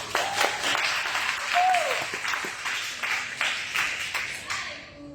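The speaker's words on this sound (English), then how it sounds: "Big round of applause" An audience at a live-streamed installation event gives a round of applause, steady dense clapping across the room, with a faint voice briefly audible beneath it.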